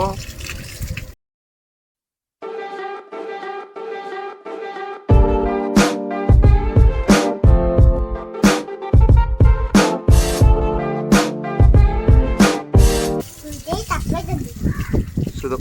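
Water poured over a cow during its bath, splashing and pattering in repeated bursts close by, with people talking throughout.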